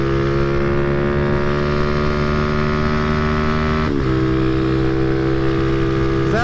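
A motorcycle drones steadily at highway speed in strong wind, a loud continuous engine hum with buffeting, its pitch dipping briefly near the middle as the rider shifts, then climbing again.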